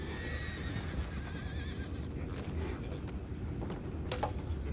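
Horses neighing in Red Dead Redemption 2, with whinnies and faint hoof clip-clop in an outdoor game scene, several high whinny calls near the end over a steady low ambient rumble.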